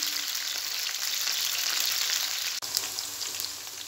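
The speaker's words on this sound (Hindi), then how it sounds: "तो भिंडियों को करेंगे हम फिलहाल फ्राई।" Okra (bhindi) frying in a pan, a steady close hiss of sizzling oil running throughout with a brief clunk partway through.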